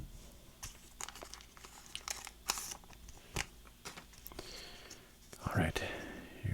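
Scissors snip through plastic Pokémon card packaging with sharp crinkling cuts and rustles, close and fairly quiet, with soft whispering around them.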